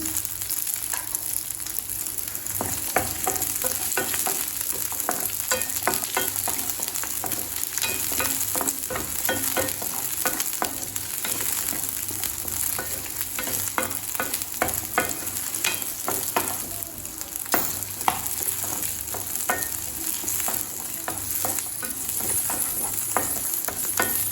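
Green chilies and shallots sauté in hot oil, a dense continuous sizzle overlaid with rapid, regular scraping and tapping of a spatula against the pan throughout.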